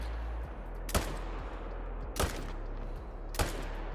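Three rifle shots are fired at a wild yak while hunting in the Call of the Wild video game, sharp isolated cracks spaced over a second apart above a low steady background rumble.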